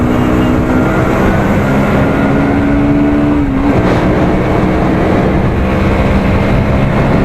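A car drives along the Belgharia Expressway, heading from Kolkata toward Purulia; a loud, steady rumble of engine and road noise from inside the cabin continues throughout.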